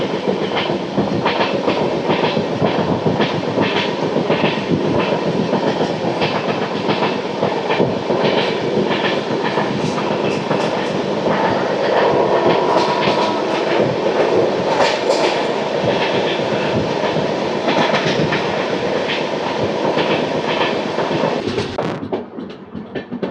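Golconda Express passenger train (17201 Guntur–Secunderabad) running near Warangal, with a loud, steady rumble and rhythmic clickety-clack of wheels over rail joints throughout, fading slightly at the end.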